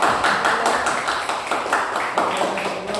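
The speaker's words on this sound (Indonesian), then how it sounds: "Baik, kasih aplaus kepada teman-teman" Classroom applause as students clap for a group of classmates, a dense steady patter of many hands for about three seconds, moderately loud and continuous.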